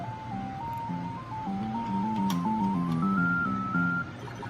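Ms. Pac-Man start-up jingle from a small countercade arcade cabinet: a bright electronic melody of steady beeping notes with a bass line beneath, played clearly and continuously without any talking.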